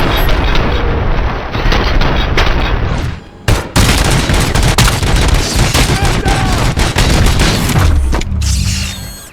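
Intense gunfire from the video game RoboCop: Rogue City: dense overlapping shots and booming impacts fill the scene almost continuously, with a short lull midway and more bursts after.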